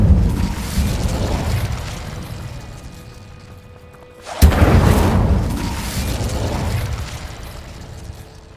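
Incendio fire spell cast in Hogwarts Legacy on PS5: a sudden loud burst and fiery whoosh erupts after a quieter ambient lull, then rumbles and fades over several seconds.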